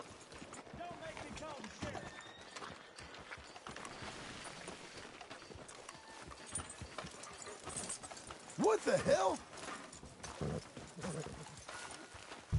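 Hooves of a horse in Red Dead Redemption 2 clop along in a steady walking rhythm, fairly close, with a brief louder burst as a voice speaks over them.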